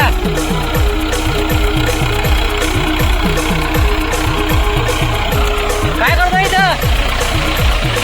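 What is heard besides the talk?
tractor engine running on cricket ground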